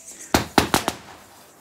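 A firecracker bomb goes off as four sharp, loud bangs in quick succession, each with a short fading tail, followed by quiet.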